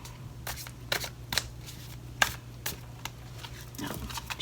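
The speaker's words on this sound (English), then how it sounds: "I'm going to shuffle these just a little bit longer here." A deck of tarot cards being shuffled by hand, giving soft, close riffling and slapping bursts at irregular intervals over a faint steady hum, with no speech.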